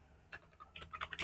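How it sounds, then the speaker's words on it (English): Typing on a computer keyboard, a quick run of light, close key clicks that grow busier toward the end, quiet and alone without talk. "Again, we are typing"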